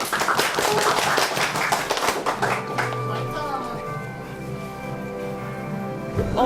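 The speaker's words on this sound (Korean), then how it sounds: "모두 뜨거운 박수로 환영해 주시면 좋겠습니다." Audience applause at a youth startup center's annual results-sharing event, a dense burst of clapping that tapers off over a few seconds as the crowd settles and a sustained tone rises beneath.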